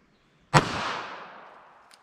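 A single sharp shot from a .380 ACP Ruger LCP pistol fired outdoors at a target about five yards away, with a loud crack and a fading tail, followed by a faint click.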